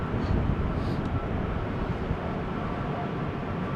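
An Aegean Airlines airliner approaching Amsterdam Schiphol Airport in wet, windy weather, heard as a steady broadband jet rumble mixed with wind buffeting on the microphone, continuous and fairly distant throughout.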